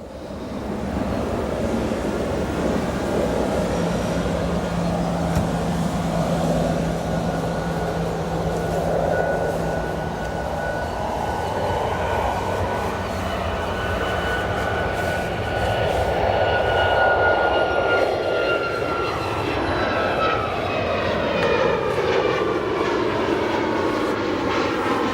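An airplane departing from O'Hare Airport roars with a loud, sustained jet engine rush that swells and shifts in pitch as it passes, with a broad whooshing wash over the whole stretch.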